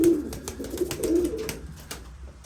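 Pigeons coo steadily in a loft holding several hens and young birds, with repeated soft, throaty calls close by and a low room rumble underneath.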